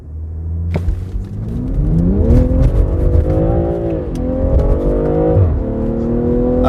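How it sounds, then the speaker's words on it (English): A BMW M340i xDrive with its B58 straight-six launches hard, the engine note rising loudly through the revs with a brief dip at a shift, then climbing again, close and powerful. "because this B58 produces 258 kilowatt and 500 Newton meters of torque and bolted to XDrive means you can launch it"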